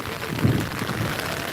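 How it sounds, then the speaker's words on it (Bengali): Steady, dense rain hiss over a waterlogged football field, with a broad rushing texture, fairly close and loud, continuous throughout with no voices. "প্রচন্ডই বৃষ্টি হচ্ছে"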